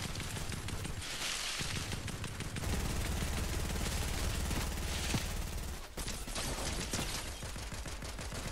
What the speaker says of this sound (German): Hinter uns irgendwo waren Schüsse, ey.